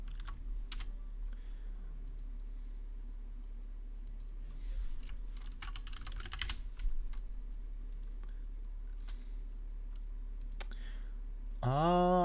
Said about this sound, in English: I like how I can hear myself typing in the stream.